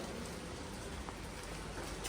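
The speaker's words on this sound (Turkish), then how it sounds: "Yağmur şarıl şarıl güzel güzel yağıyor." Heavy rain pours down in a steady, dense hiss that holds an even loudness throughout, with no voices over it.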